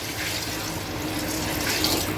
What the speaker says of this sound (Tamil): தண்ணியை கொஞ்சம் ஊற்றிடுவோம்.